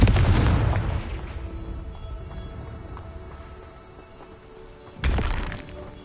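A blasting spell in Hogwarts Legacy bursts with a loud crackling boom that fades over a few seconds, followed by a second sharp impact near the end.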